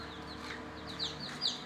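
Desi and Kadaknath hens clucking on a poultry farm, with a few short rising clucks of moderate loudness over a steady low background hum.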